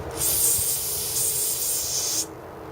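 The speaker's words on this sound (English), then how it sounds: "Let me spray that a little more." A continuous hiss of an aerosol can spraying onto a mower carburetor for about two seconds, close and loud, then cutting off abruptly.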